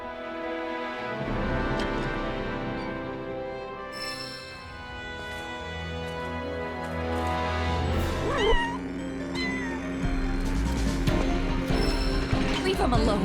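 A cat meows repeatedly while eating in Final Fantasy VII Rebirth, soft mewing calls over game music and mechanical clicking, with occasional voices.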